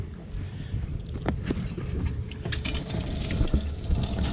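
Water running into the live well of a 2003 Beachcomber 21 pontoon boat on a lake, a steady rushing splash with brief gurgles, growing louder and brighter toward the end, with wind in the background.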